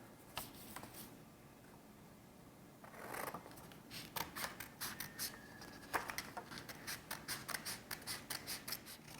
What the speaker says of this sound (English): Now you're going to cut out each strip.